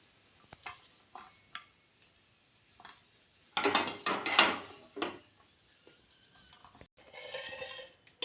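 Fried items lifted from a pan onto a plate while cooking a ghee and wheat-flour temple offering: scattered scrapes, taps and clinks of a utensil, with a louder burst of rattling and a brief sizzle midway, then softer scraping.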